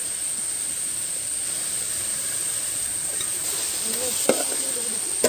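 Sliced onions with a little salt frying in a pan for a chicken curry give a steady, soft sizzle, with a few faint scrapes and knocks from stirring near the end.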